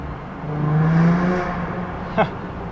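A 2000 VW New Beetle RSI accelerates hard through a short stretch of ring road with small tunnels; its engine note climbs in pitch to a peak, then eases off, followed by a brief sharp click.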